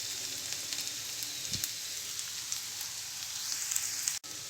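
Cluster bean pieces frying in a pan make a continuous close hiss and sizzle, fairly even throughout, with a faint tap partway through and no talk.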